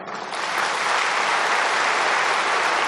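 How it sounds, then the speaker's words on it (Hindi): A large audience at a spiritual talk claps for themselves. The applause is dense and sustained, builds quickly in the first moments and then holds steady and loud to the end, with no talk over it. "अपने लिए ताली बजाओ।"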